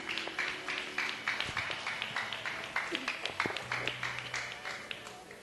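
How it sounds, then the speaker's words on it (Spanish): Church congregation clapping for the Lord during a Spanish-language service, a quieter, distant and loosely rhythmic patter of hands with separate claps audible, while a few voices murmur underneath. "dele un aplauso al Señor en esta mañana"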